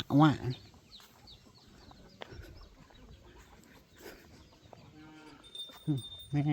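Several low, harmonic moos from a pen of four or five cows, one at the start and a couple near the end, over a busy farmyard background with faint clucking.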